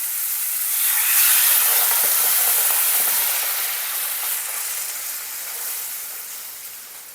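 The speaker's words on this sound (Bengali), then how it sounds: "এখন আমি জল দিয়ে দিই। জলটা কিন্তু আমি গরম জল দিচ্ছি।" Hot water poured into frying chicken stew in a pot, a loud rushing hiss of steam that swells early and slowly fades away.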